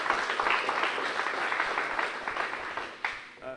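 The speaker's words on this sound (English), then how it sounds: "you should give yourselves a round of applause" An audience claps for themselves at the T. rex: The Ultimate Predator museum press conference, a continuous spread of applause that thins slightly near the end, with a few louder individual claps standing out.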